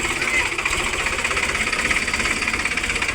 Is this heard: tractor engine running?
yes